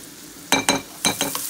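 Onions sizzling in a hot pan with a little salt, stirred in four quick scraping bursts over a low steady fry, close and fairly loud with no talking.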